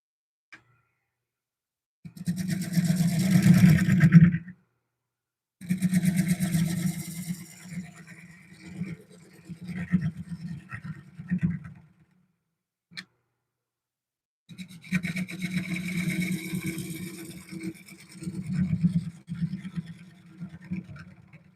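A wood lathe spins a pen blank while a tool cuts a tenon, making rough scraping and rumbling bursts of a few seconds each, separated by short silent pauses, close by and without talk.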